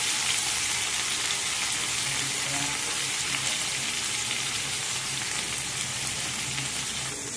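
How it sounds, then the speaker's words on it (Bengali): Potatoes and eggplant frying in a kadai with mustard oil and green chillies, a loud, dense, continuous sizzle close up with no talk. "তো আমার এখানে আলু বেগুন ভাজা ভাজা হয়ে গেছে"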